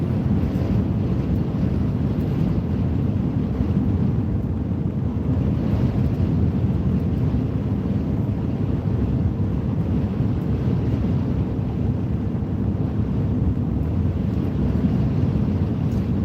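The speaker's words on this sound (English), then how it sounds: "And it's windy as crap." Strong wind buffets an outdoor microphone in a steady, unbroken roar of low rumble lasting throughout, with no voices present.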